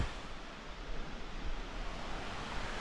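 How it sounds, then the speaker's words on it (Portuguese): A waterfall with a huge drop, Cachoeira da Macumba in Petrópolis, Brazil, roars nearby as a continuous broadband rush of falling water, steady and fairly loud, with no voices over it. "Essa cachoeira aqui tem uma queda"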